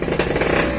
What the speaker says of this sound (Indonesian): Kita akan mencoba mengebor di bagian tengahnya dulu.